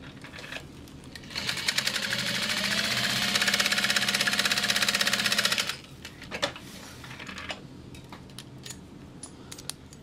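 A sewing machine bastes a zipper panel onto a bag, running fast and steadily for about four seconds with a rapid needle clatter and motor whine, then a few short stitch bursts follow; no talking.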